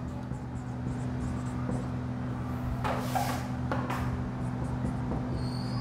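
A teacher writing on a classroom board during a biology lesson, giving a few short scratching strokes of the marker or chalk over a steady low background hum.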